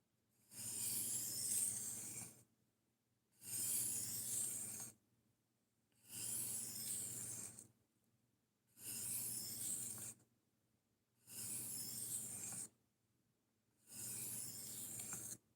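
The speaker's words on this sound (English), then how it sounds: "Oh, that diamond lap is going to be... I'm telling you guys, these lapping films are a great way of finishing." A knife blade is lapped on a diamond lap, six even rasping strokes about two seconds each separated by short pauses, close and clear with no talking.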